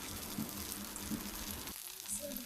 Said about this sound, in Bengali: এখানে ভেজে নিচ্ছি দুটো দুটো করে ভাজবো